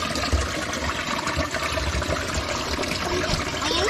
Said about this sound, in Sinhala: අතලින් වතුර යනවා ගල ඇතුලේ.